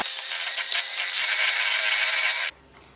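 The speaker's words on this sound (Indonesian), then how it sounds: "Lalu kita mixer dengan kecepatan sedang." An electric mixer beats margarine and butter at medium speed for cheese nastar cookie dough, a loud, steady whirring that runs unbroken for a few seconds and then cuts off abruptly, leaving near quiet.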